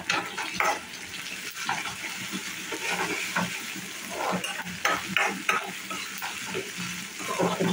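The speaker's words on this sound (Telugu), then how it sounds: "అల్లం వెల్లుల్లి పేస్ట్ ఉంది కదండి, జింజర్ గార్లిక్ పేస్ట్, అందులో యాడ్ చేసి బాగా ఫ్రై అయ్యేంత వరకు కలపండి." Ginger garlic paste sizzles in hot oil in a pan while a spoon stirs it, producing a steady frying hiss broken by repeated scraping and clacking strokes, close and fairly loud with no talking.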